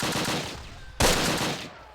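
Machine gun fire in the war game Close Combat Wacht am Rhein sounds as dense rattling bursts, with a sharp new burst starting midway and then fading.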